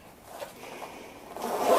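An Eevee-themed Pokémon Center pouch with an Eevee-tail zipper pull and green lining, its zipper pulled in one continuous rasping stroke that grows louder toward the end, close and alone.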